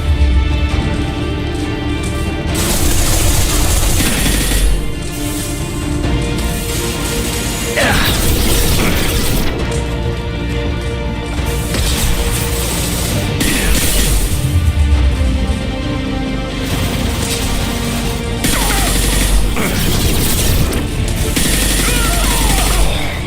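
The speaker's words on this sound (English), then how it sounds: "Taking fire!" Heavy gunfire in a Mass Effect Legendary Edition battle, loud and continuous with rapid bursts, pops and booms layered over one another, and voices shouting briefly in the middle of the firefight.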